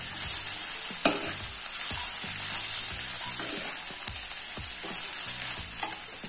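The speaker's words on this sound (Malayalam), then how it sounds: "ഒന്നിളക്കി കൊടുക്കാം." Onions and turmeric powder fry in a pan for a Kerala-style chicken roast, a steady close sizzle with repeated scraping stirs of a spoon across the pan.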